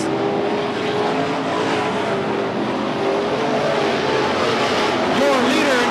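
Super Stock race cars at Gallatin Speedway roar steadily through a late-laps feature race, a dense continuous engine drone with passing cars and a track announcer talking over it throughout.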